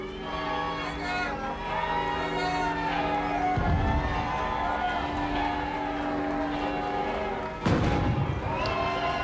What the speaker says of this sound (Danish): Der fyres et fyrværkeri af til brudeparrets ære umiddelbart nu her, hvor de forlader kirken i Hillerød.